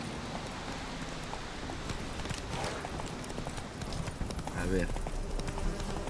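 Horse hooves clip-clop steadily in a video game, a continuous rhythmic patter under a busy game soundscape, while a person speaks briefly over it.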